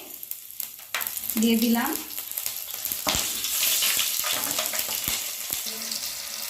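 Slit green chillies fry in hot oil for an egg masala curry, a steady close sizzle with stirring scrapes and clinks, while someone speaks briefly over the cooking.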